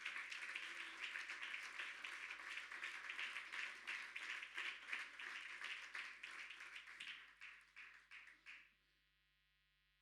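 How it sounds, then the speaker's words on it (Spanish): Congregation applauding during a church service, a dense wash of clapping that holds steady and then thins into a few scattered claps before fading out over a low electrical hum. "Denle ese aplauso al Señor en esta tarde"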